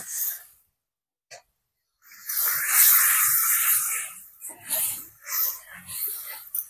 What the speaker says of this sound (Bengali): একটু জল দিয়ে ভালো করে মশলাটা কষিয়ে নেব।